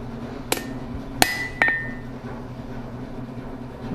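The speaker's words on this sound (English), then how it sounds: "Bring it to the anvil. Straighten that out a little bit." A hot steel center punch is struck on an anvil in a blacksmith shop: three sharp, ringing hammer blows close together, then a quiet hum.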